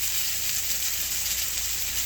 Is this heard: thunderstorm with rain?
no